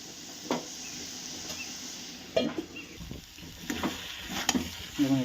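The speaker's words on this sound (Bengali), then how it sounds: "আমরা আলু আর সয়াবিনটাকে আমি ভালো করে মশলার সঙ্গে মিশিয়ে নিয়েছি। এবার আমি চাপা দিয়ে একটুখানি কষিয়ে নেব।" Potato and soybean chunks mixed with spices sauté in a covered pan over a low gas flame, making a soft, low sizzle broken by a few louder stirring knocks and clatters, with no talk.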